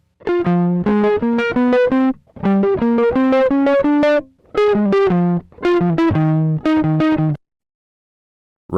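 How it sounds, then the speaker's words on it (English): A distorted electric guitar riff doubled by an ARP Odyssey synthesizer plays loud and close, a chopped sequence of sustained, effect-heavy notes in phrased bursts with short gaps, ending in silence. "So here we have the guitar riff that's doubled with Harp Odyssey."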